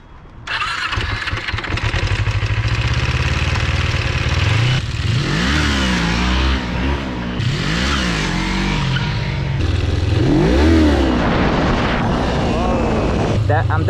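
A Kawasaki Ninja 250 motorcycle engine revs hard during wheelie stunts, loud and close, climbing and falling in pitch through repeated throttle blips and sustained high revs, with brief dips between pulls.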